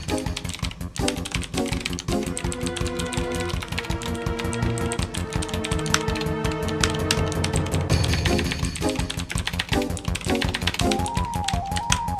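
Rapid computer keyboard typing during coding, a continuous patter of key clicks set against steady background music.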